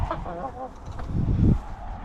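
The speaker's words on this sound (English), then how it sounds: "This is the problem with the chickens following me everywhere." Chickens cluck and squawk close by in a short, busy burst of fowl calls, with some shuffling noise and no speech.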